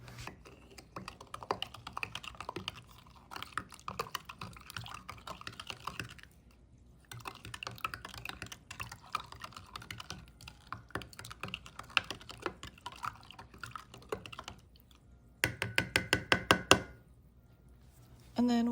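A spoon, fork or whisk stirs a bread yeast mixture in a bowl, making quiet, rapid clicking taps in uneven runs with short pauses and a louder, quicker flurry near the end.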